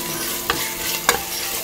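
Onions, ginger and crushed garlic fry in a pan with a constant close sizzle, broken by two short scraping stirs of a spoon.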